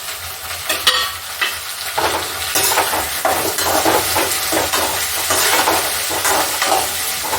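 Ripe tomatoes sauté in a hot pan with garlic, ginger, cinnamon, clove and fennel, giving a loud, close sizzle and hiss broken by repeated rhythmic scraping of a spoon stirring, with no voices.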